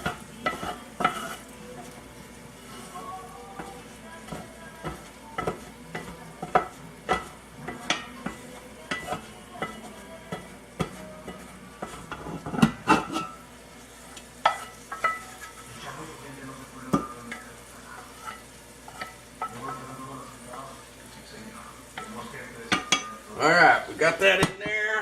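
A roux and vegetable mix for gumbo is scooped into a pot, with repeated close scrapes and clinks of a spoon against metal cookware and a soft sizzle underneath.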